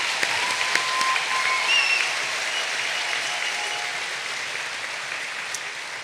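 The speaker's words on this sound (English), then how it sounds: "All right, now we give them a applause." Steady applause from a graduation audience fills the room, dense and even throughout with a few faint voices mixed in, slowly tapering slightly toward the end.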